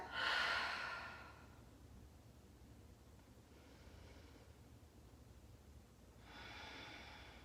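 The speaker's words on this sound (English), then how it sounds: "Deep breath in. Exhale it out." A slow, deep inhale and long exhale during a yoga session for the upper back and shoulders, followed by a quiet pause and then another soft breath near the end, close and clear without speech.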